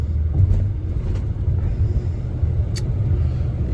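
Car engine rumbling steadily while driving, a low continuous drone heard from inside the cabin, moderately loud and alone.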